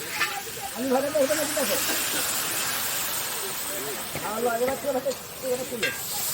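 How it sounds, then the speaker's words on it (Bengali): Fried potatoes are lifted out of hot oil during an outdoor picnic cook-up, the steady sizzle and hiss running throughout with a few stirring scrapes, while a voice talks over much of it. "এখানে আলু ভাজা তোলা হচ্ছে আলু ভাজা হয়ে গেছে তুলে নিচ্ছি"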